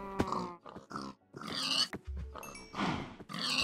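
A pig in Minecraft grunts and oinks in several short bursts separated by brief gaps, fairly close and clear, with no talking.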